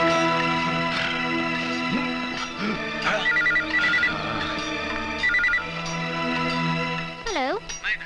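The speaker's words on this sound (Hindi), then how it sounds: "सर, होम मिनिस्टर धर्मपाल जी का फोन है" A telephone rings in repeated electronic trills over a loud musical score, the ringing clearly audible through the music.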